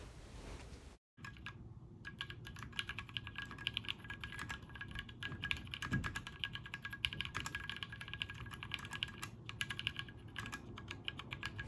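Typing on a Tofu60 mechanical keyboard with NK Cream switches, PBT keycaps and the foam removed for a slightly hollow tone: a steady, dense stream of close keystroke clicks after a brief pause near the start, with no talking.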